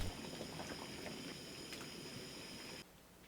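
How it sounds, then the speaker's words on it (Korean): A pot of water at a rolling boil for blanching tomatoes, a steady, faint bubbling and gurgling churn that drops off abruptly near the end, with no voices. "물이 팔팔 끓을 때 토마토를 넣고 30초 후 바로 찬물에 넣어 식혀주세요."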